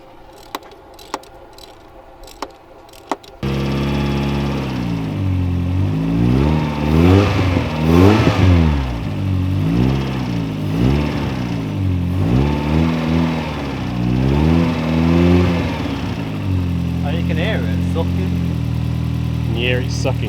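A car engine revs up and down repeatedly with a loud, rising and falling drone and a breathy intake roar, after a few faint clicks at the start.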